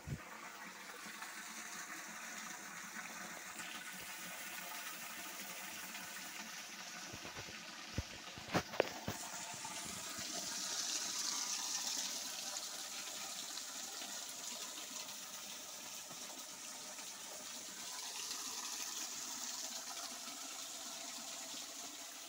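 Water runs steadily from a spring spout at a rural stream in a reduced dry-season flow, a continuous close splashing gush with a few brief sharper knocks partway through and no talking.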